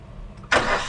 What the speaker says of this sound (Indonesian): ini mesinnya kita sudah hidupkan